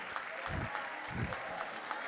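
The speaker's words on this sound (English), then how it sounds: "give a very big round of applause for Uzama" A round of applause for a honoree at an event: faint, steady crowd clapping with low thumps and voices mixed underneath.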